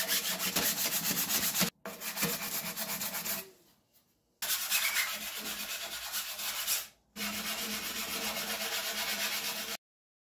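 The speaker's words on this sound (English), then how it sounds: "And now just a little more sanding to get these smooth." Steady abrasive sanding strokes smoothing a fiberglass sailboat rudder blade, rough and close, in long runs broken by brief pauses.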